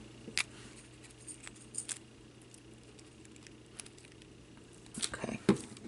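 A small metal chain jingles faintly while being fitted onto a handmade vintage bluebird purse charm, with soft scattered tinkles and light clinks, a few sharper jangles near the end, close and quiet.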